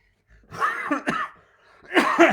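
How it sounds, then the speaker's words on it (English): A couple of harsh, close coughs in quick succession, then another rough cough burst after a short pause. "So, excuse the old cough."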